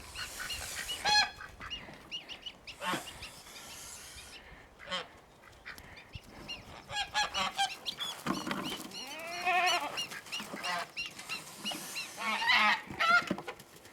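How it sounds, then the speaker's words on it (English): On a livestock homestead, geese in a farm barnyard give repeated loud honks, with ducks quacking among them in bursts spread over the stretch, close by and busy. "Boy, that duck wants to breed with that goose."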